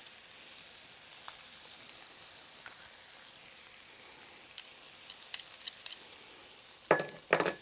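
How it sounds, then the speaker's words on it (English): Onion and crushed garlic sizzle in a pot for a chicken and lentil dish, a soft continuous hiss with light stirring scrapes and a few sharp metallic clinks near the end; no one speaks. "just stir that around and cook the garlic out a little bit"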